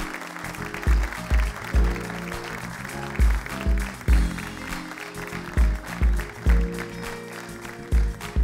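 Studio audience applause on an Algerian TV variety show, a sustained crowd clapping at steady volume with heavy rhythmic low thumps underneath, continuing through the whole stretch without speech.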